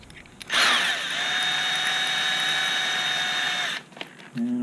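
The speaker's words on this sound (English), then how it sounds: "And I'll kind of use this like a Dremel tool here." A power drill fitted with a smaller bit is used like a Dremel rotary tool, giving a steady, high-pitched whine for about three seconds after it spins up quickly and before it cuts off abruptly.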